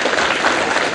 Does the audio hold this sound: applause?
yes